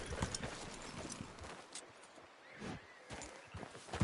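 A horse's hooves clip-clop in a steady walking rhythm, fairly faint and somewhat distant, with a few sharper hoof strikes near the end and no talk.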